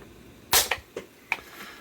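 A 1911/2011-style pistol with a light trigger being dry-fired, producing a sharp metallic snap followed by a few smaller clicks, close and crisp against a quiet room.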